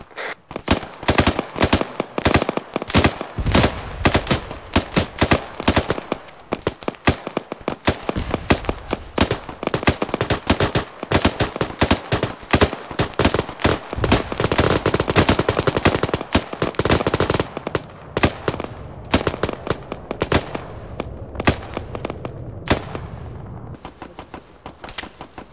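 Sustained automatic gunfire exchange in a military video game firefight with shooters on a rooftop, dense rapid bursts and overlapping shots filling the whole stretch, loud and close with no pauses.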